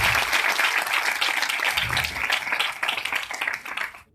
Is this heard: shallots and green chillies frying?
no